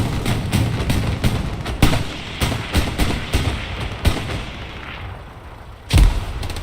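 A grenade blast in a war video game booms loud and close, with scattered gunfire thuds and sharp shots around it in a busy battle.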